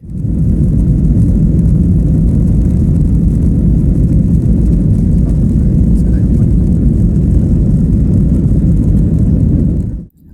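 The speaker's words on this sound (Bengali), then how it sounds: "বিমানটি টেক অফ করার জন্য স্পিড বাড়িয়ে এখন আকাশে ওড়ার জন্য প্রস্তুতি নিচ্ছে" Airplane on a runway accelerating for takeoff on a flight out of Dhaka, heard from inside the cabin as a loud, steady engine roar with deep low rumble, continuous for about ten seconds before cutting off.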